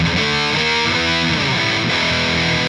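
A short burst of distorted electric guitar chords through a Marshall DSL amp's built-in distortion, loud and gritty, ringing steadily for a few seconds before stopping abruptly.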